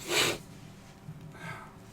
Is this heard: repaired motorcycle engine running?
no